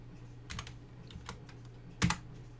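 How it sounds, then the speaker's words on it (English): A few scattered clicks of typing on a computer keyboard, soft and close, ending with a sharper, louder keypress like an enter key. "typing 3 inches and pressing enter"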